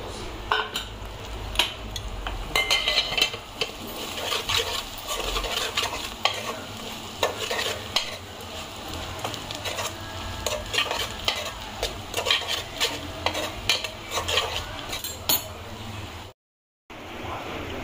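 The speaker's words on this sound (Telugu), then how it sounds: "ఇప్పుడు చింత చిగురు వేసి కలుపుకోవాలండి" Tamarind shoots being stirred into frying onion and garlic paste in a village-style pan, a steady sizzle under continuous scraping and clinking of a spoon against metal, close and busy for the whole stretch, with a brief dropout near the end.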